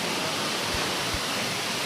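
Waterfall near Raipur mandalam roaring in a steady, dense broadband rush, loud and continuous with no letup and no voices.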